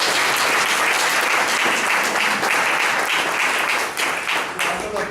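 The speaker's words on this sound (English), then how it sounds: "So let's give him a big round of applause." Sustained audience applause at a speech evaluation and conclusion session, dense, steady clapping from a full room, loud and continuous for about five seconds before tapering slightly near the end.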